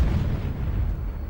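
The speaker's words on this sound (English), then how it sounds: "The first cannon shot of the Second World War is fired." Cannon shot sound effect marking the first shot of the Second World War: a single deep, rumbling boom whose low roar fades over about a second.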